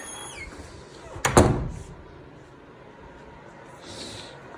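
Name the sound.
door being closed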